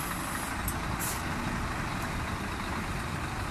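A new 16.5-metre semi-trailer truck slowly pulls out of a factory, its steady engine rumble close and loud throughout, with a couple of brief hissing air releases.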